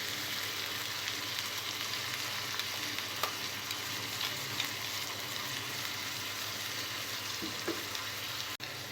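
Onion pieces and green chili paste fry in a pan for an aloo tomato curry, giving a steady, close sizzle with faint stirring scrapes and no talk.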